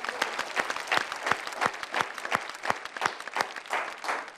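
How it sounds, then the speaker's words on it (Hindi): Scattered applause from a small audience at a Hindi and Urdu poetry show, with distinct individual claps in an uneven rhythm at a fairly soft level. "मैं जानता हूं इस वक्त आप तालियां बजा रहे हैं मेरे लिए"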